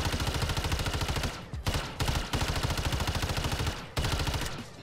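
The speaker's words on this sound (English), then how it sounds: "It sounds like a laser gun, like a Star Wars animated laser gun." Rapid laser-like automatic fire from the Astra Militarum tracer weapon in Call of Duty MW3, loud sustained bursts split by brief pauses, with no voices.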